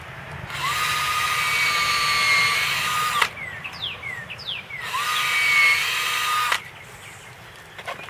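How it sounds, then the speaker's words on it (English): A power drill bores into a tree trunk through well-attached bark in two sustained whining bursts of about three seconds each, separated by a short pause, loud and close with no talking. "Okay, I'm going to drill it."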